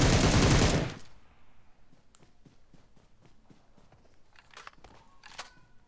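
A loud burst of automatic gunfire opens, then a run of sharp, evenly spaced shots and clicks in a PUBG Mobile match, fairly faint and distant behind the opening volley.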